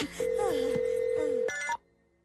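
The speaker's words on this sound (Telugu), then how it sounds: "ఏ రింగ్ అవుతుంది రింగ్ అవుతుంది." A phone ringtone plays loudly for under two seconds, a tonal melodic pattern that cuts off abruptly into near silence.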